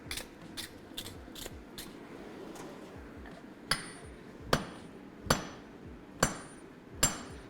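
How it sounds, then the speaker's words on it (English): Hammer blows forging steel for a cross peen hammer. Roughly ten sharp ringing strikes fall in an uneven rhythm, the later ones louder and more evenly spaced, over a steady background hum of shop machinery. "let's do some more forging"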